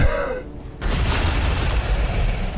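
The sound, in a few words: grenade explosion in a video game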